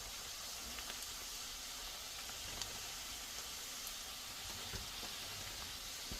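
Large shrimp sauté in a hot pan for shrimp and grits, giving off a continuous soft hiss and sizzle with faint crackles scattered through it and no talking.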